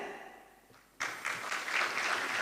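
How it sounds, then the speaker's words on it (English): Audience applause at a university law school inaugural dinner: after a quiet moment, clapping breaks out abruptly and builds into moderate, fairly light applause from a modest crowd. "I thought the applause would be louder."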